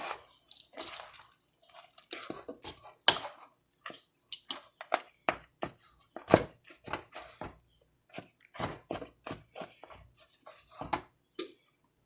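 Frozen chocolate chips, some clumped together, being stirred into cake batter for a chocolate chip bundt cake, giving irregular crunchy scraping strokes with short pauses, close and fairly quiet, with no talking.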